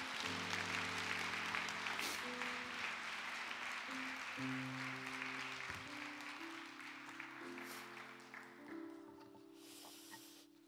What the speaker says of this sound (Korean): 다시 한번 박수로 하나님 앞에 영광을